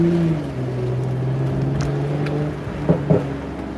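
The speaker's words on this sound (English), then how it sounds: "I very rarely put this car into sport mode, but I don't know, it just feels so good right now that I feel like hearing the engine a little bit more." A car engine held in sport mode while driving, a steady low drone with a rising tone at the start and a couple of brief louder blips near the end.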